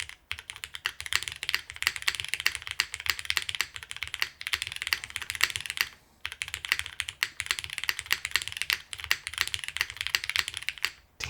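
Fast typing on a custom plateless mechanical keyboard with NIXIES switches, GMK Klassiker keycaps and heavy O-rings, giving dense soft clacky keystrokes in steady bursts with a brief pause midway, close and alone.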